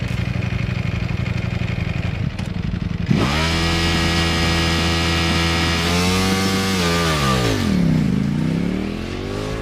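A Ducati Panigale V4 motorcycle idles with a rough burble, then its engine jumps to a loud, held high-rev launch-control scream before dropping and climbing again, close and alone.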